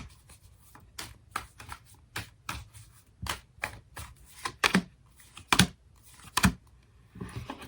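Tarot cards are shuffled in quick, crisp bursts, a series of sharp riffling snaps repeating at an uneven rhythm, close and fairly quiet with no talk.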